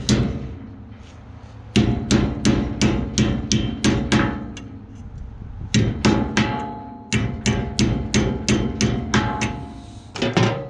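Metal hammering as copper tubing is flattened on a flat surface: sharp, ringing blows struck in quick steady runs of several hits, with short pauses between runs, loud and close.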